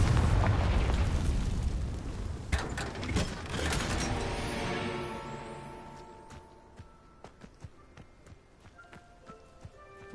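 In the game Hogwarts Legacy, the Confringo fire spell goes off as a loud blast that rumbles and crackles for several seconds, then fades into scattered clicks and clattering debris.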